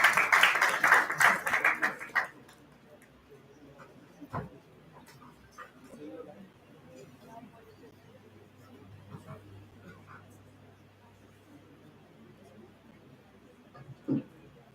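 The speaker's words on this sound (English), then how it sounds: "Let's have a round of applause," Audience at an entrepreneurship event in India breaking into loud applause for about two seconds, then fading into low room murmur and scattered background noise.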